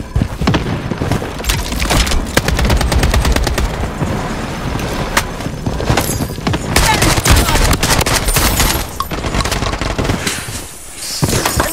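Dense, loud bursts of automatic weapon fire from Payday 2, with O12 and AK47 weapons in play, rattle almost nonstop through a heist firefight, thinning briefly near the end before resuming.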